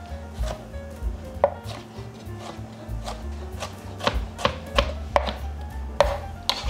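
A knife chops Roma tomatoes into quarter-inch slices on a cutting board, with sharp, evenly spaced close cuts landing about once or twice a second over a low background hum.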